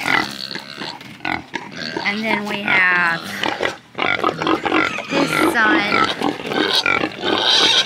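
A pig on a farm, kept behind an electric fence near an aggressive boar, grunts and snorts off and on beneath a man's steady speech.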